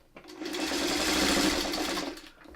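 Sewing machine stitching quilt block pieces with a quarter-inch foot, one steady close whirring run that rises, holds for about two seconds and then winds down.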